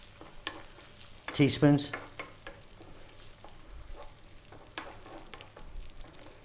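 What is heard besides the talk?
chicken fried rice stir-frying in pan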